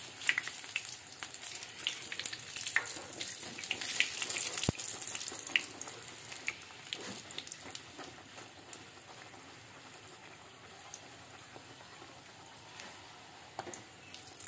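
Rolled dough drops into hot mustard oil and fries with a steady sizzling hiss, close and fairly quiet, with a brief sharp pop near the middle and no talking.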